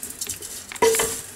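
A spoon scrapes and stirs vegetables with salt in a cooking pot: a few soft scrapes at first, then a louder clinking stir against the pot's side that rings briefly before settling.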